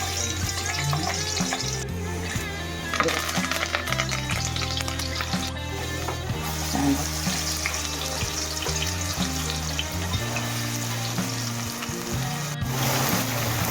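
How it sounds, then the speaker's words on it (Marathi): Onions frying in a pan until brown for pav bhaji, a steady sizzle running throughout with a low tonal hum beneath, close and moderately loud with no talking. "कांदा चांगला ब्राऊन करून घ्या कांदा आपला ब्राऊन झालेला आहे"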